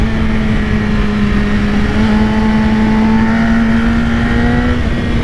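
A BMW S1000RR motorcycle accelerates hard at speed, its engine note a loud, steady high-revving drone that climbs slightly in pitch over a constant roar of wind and road noise.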